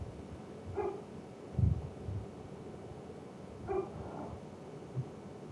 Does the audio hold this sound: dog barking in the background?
yes